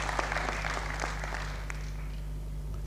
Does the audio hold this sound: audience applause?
yes